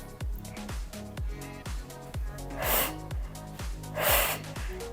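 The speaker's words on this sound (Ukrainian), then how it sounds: "Видих, видих. Видих, видих." During a workout, someone exhales heavily in a steady rhythm, about two breaths a second, with a couple of louder, breathier gasps toward the end.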